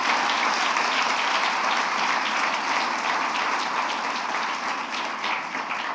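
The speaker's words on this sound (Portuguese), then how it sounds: "dê um aplauso bem grande a Jesus" A church congregation applauds in dense, sustained clapping that continues at an even level throughout.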